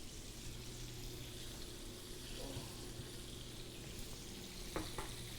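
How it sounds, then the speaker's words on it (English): Chicken tenders frying in hot oil, giving a steady, close hiss and crackle of sizzling throughout, with a couple of faint clinks near the end. "that loud sizzle right there, that is the moisture"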